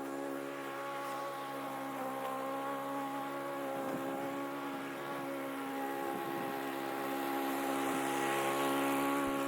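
A push lawn mower in need of new wheels drones steadily at close range while mowing a sloped lawn, its engine hum constant with slight swells throughout.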